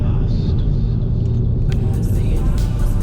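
An Audi TT drives along with a loud, steady engine rumble and road noise heard from inside the car, broken by a few faint clicks and knocks.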